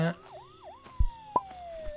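A police siren in Thief Simulator 2 wails in rising and falling sweeps, then holds a long tone, with a few thuds and game sounds around it and no talk.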